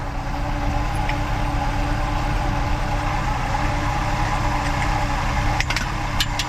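1967 Chevy Nova V8 idling at about 700 RPM, a steady low rumbling drone held close and even throughout, with a few faint clicks near the end.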